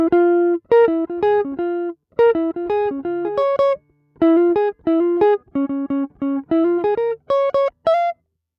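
A jazz guitar riff in swing style moves from minor to major third in a series of clean, short plucked phrases separated by brief pauses, played solo and close.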